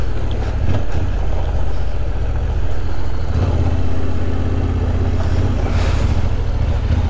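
A Yamaha Tenere 700 twin-cylinder motorcycle engine thrums steadily and low while climbing off-road, loud and close, with constant wind rumble over the microphone and no voices.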